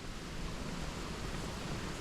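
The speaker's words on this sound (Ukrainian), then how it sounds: "Вітер піднімається." Wind gusting across a wild pond in Sumy Oblast during light rain on a fishing trip, a steady broadband rush with a low rumble, close and constant for the whole stretch with no voices.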